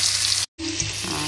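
Garlic, ginger and shallots hit a hot pan of prawn curry and sizzle steadily and close, with a brief break before the frying resumes loud and continuous.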